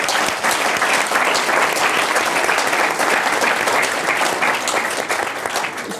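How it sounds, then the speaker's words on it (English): Audience at a live CNBC Africa panel debate in Davos, Switzerland, applauding the panelists; loud, dense, sustained applause from many hands throughout, close and steady. "A round of applause,"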